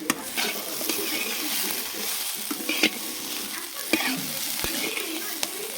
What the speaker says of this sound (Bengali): ভালোভাবে এটা নেড়ে নেব।